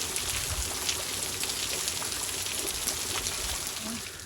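Heavy downpour pouring steadily outdoors, a dense hiss of rain drumming and trickling without pause, close and loud throughout with no voices over it.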